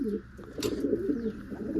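Pigeons coo in low, soft, repeated bursts around their enclosure during rain, with a brief higher bird chirp partway through and steady background murmur beneath.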